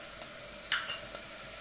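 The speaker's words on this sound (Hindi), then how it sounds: "थर्टी सेकेंड्स फ्राई करने के बाद अब हम इसमें डाल देंगे सोया सॉस" Chicken and vegetables stir-frying in a pan for a restaurant-style Chinese egg fried rice, with soy sauce going in; a steady close sizzle carries a few sharp hiss bursts and scraping stirs, no talking.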